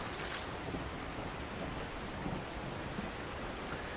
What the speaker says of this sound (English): while waiting in the rain.